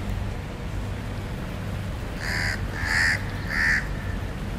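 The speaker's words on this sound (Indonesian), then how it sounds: "Ini sebelahnya ada gagak makan daging." A crow caws three times in a row, fairly close and clear over a low background rumble, while it feeds on the meat of a small bird.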